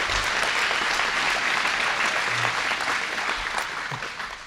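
Audience applause fills a hall at a CTO gathering in Walla Walla, a steady, dense clapping from a sizeable crowd that holds for several seconds and fades slightly at the end.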